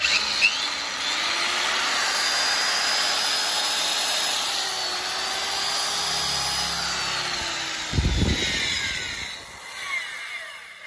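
A secondhand Japanese electric drill with a 13 mm chuck whines loudly at steady speed for several seconds, then winds down with a brief clatter and fades.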